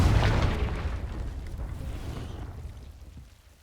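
A Confringo spell explosion in the Hogwarts Legacy video game, a deep booming blast that hits hard at the start and then rumbles and fades over a few seconds, with no talking.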